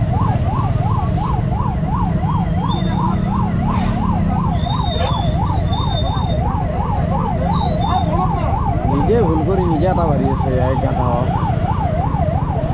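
An ambulance-style siren from a private medical vehicle wails steadily in rising and falling sweeps behind the constant rumble of city traffic on a Guwahati road, with a few chirping horn-like tones and someone talking over it.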